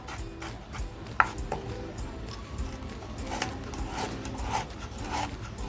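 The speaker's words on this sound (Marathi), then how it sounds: "आता हे आपण छान असं बारीक कापून घेते आहे मी" A knife finely chops coconut for a traditional village-style black mutton dish, producing soft, irregular cutting taps and scrapes at close range, with one sharper knock early on.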